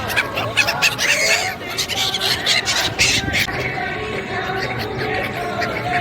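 A flock of birds at the Magh Mela bathing site at the Sangam in Prayagraj call and squawk in dense, overlapping bursts, close and lively, with faint human voices in the background.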